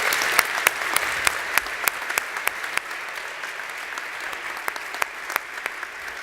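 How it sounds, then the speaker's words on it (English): Audience applause fills the hall at a business award ceremony, with a soft, even wash of clapping punctuated by a few sharp, louder individual claps. "Another round of applause"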